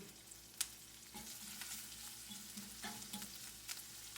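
Chorizo sausage fries in a pan with a steady, close sizzle, broken by several scraping stirs and one sharp clack early on.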